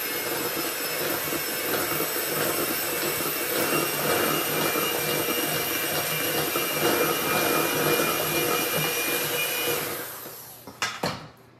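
An electric mixer beats blueberry and orange muffin batter with a steady, loud whirring drone that runs close and unbroken, then cuts off and is followed by a few knocks.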